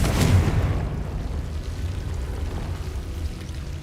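A Confringo fire spell goes off in Hogwarts Legacy with one close, booming burst and a sharp crack at the onset, followed by a long, low rumbling tail that slowly subsides.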